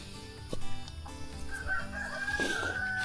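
Chickens crow and cluck close by in a farmyard, a rooster's drawn-out crow rising over steady clucking and scattered bird calls.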